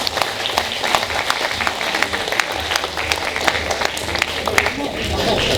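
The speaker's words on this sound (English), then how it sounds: "Let us give a big round of applause to Josiah David Quising of Florida State University." Audience applause at an awards ceremony for a first place winner from Florida State University, sustained dense clapping from a large crowd, steady and fairly loud throughout.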